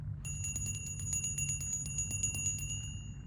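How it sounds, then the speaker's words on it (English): Small metal bell rung rapidly and repeatedly to clear the space, a steady bright ringing of many quick strikes over a low background hum, with no talking. "I'm gonna ring this bell."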